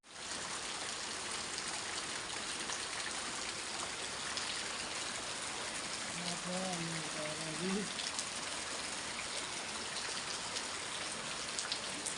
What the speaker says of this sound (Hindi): मित्रों आज बहुत बारिश है रे